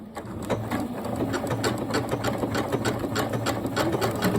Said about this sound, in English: let's see how this sews out